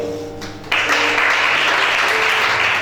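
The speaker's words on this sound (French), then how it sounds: "Acclame chacun." Audience applause at a church service swells suddenly after a moment of quieter sound, then carries on as a loud, steady roar of clapping to the end.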